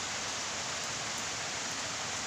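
Steady rain falls in a dense, even hiss, soft and continuous with no voices or other sounds.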